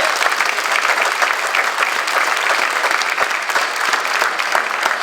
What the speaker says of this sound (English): Come on, that deserves a round of applause right there.